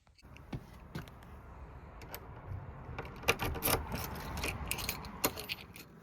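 A ring of metal keys jingles and clinks in short, sparse bursts while a door is unlocked at a decorator's job site, starting quietly and growing a bit louder and busier toward the end.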